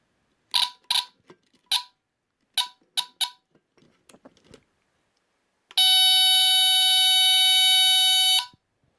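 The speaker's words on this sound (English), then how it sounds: "Nice little unboxing and testing of this Norelco Smokey model HB-0933A smoke detector" Several clicks and short chirps, then a loud, piercing Norelco Smokey HB-0933A smoke detector alarm sounds continuously for about three seconds up close.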